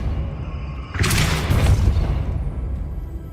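A Depulso spell goes off in Hogwarts Legacy, a sudden whooshing burst about a second in that swells into a rumbling boom and slowly fades.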